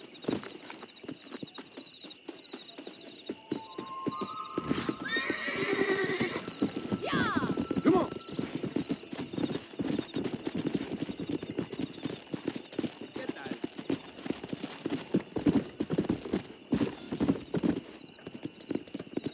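Horses gallop in Red Dead Redemption, a steady rapid clip-clop of hooves running throughout with a whinny midway, close and loud over an open-country soundtrack while people talk.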